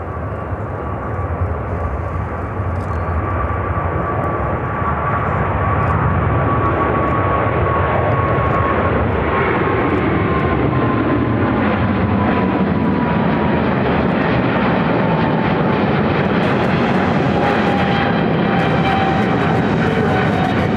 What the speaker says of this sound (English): This is Eva Air Cargo 633 taking off to Taipei